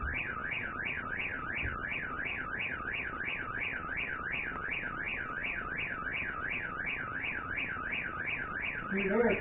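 A motion sensor alarm going off in an attic, sounding a steady electronic warble that sweeps rapidly up and down without pause, loud and continuous over faint background noise.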